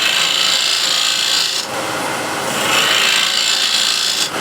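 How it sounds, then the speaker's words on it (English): A shear scraper scrapes across ebony-style wood on a lathe, a loud, close, continuous rasping hiss with two brief dips as the cut pauses. "I'll get the best sort of control using a shear scraper"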